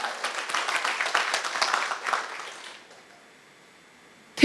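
Scattered clapping from a workshop audience at a coaching training session, lasting about two seconds before thinning out and falling to near silence, followed by a sudden short knock at the very end.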